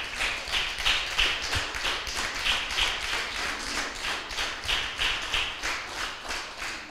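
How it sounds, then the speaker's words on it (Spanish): Rhythmic clapping from a church congregation, steady and fairly even in tempo, moderately loud with some low thumping underneath, no talking. "Denle un fuerte aplauso, pues, al Señor."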